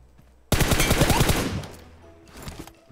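A sudden burst of rapid automatic gunfire erupts in a shooter game, a close, loud rattle of quick shots lasting about a second before trailing off into fainter distant shots.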